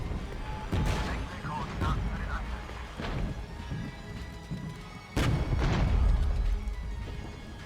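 T-72 tanks firing in the real-time strategy game Regiments, heavy booming cannon blasts at irregular intervals with rumbling explosions, moderately loud, while someone talks over the battle.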